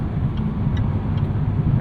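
A 2023 Jaguar F-Type R coupe's V8 accelerates up a long highway entrance ramp, a steady, loud low rumble from inside the car with faint high ticks and no speech.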